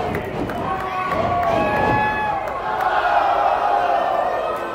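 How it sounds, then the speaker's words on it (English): A wrestling crowd at the Colonial Theater cheers and shouts during a match, a loud sustained roar with whoops and rising voices filling the hall. "listen to the crowd."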